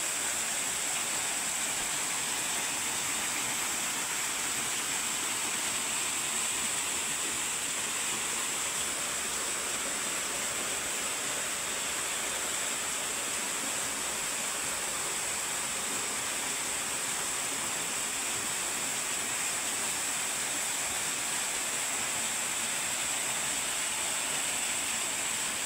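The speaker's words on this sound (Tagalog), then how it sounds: "dito merong tinatawag na mini Busay or Busay-Busay Falls." Steady rushing water from the Busay-Busay mini waterfall in a forest, a continuous broadband hiss with no breaks, moderately loud and even throughout, with no voices.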